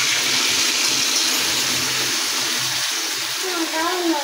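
Water used to wash spices is poured out in a continuous close, rushing stream lasting a few seconds, with a faint voice in the background.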